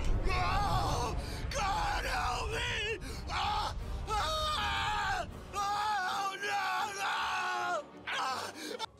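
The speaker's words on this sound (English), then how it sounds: "And nobody heard him screaming." A character in the video game Lucius screams and groans in long, loud, anguished bursts, broken by short pauses.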